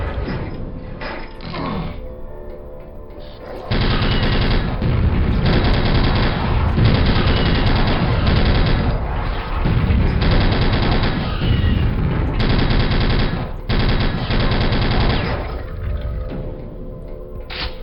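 Submachine gun fire in Quake, a weapon with 1930s–1940s styling, rattles loud and close in sustained bursts separated by brief pauses, with mechanical clanks between volleys.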